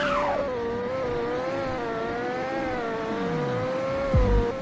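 A Lamborghini in a racing video game holds a steady engine drone while accelerating, pitch wavering, then ends with a brief screech and thud as it brakes.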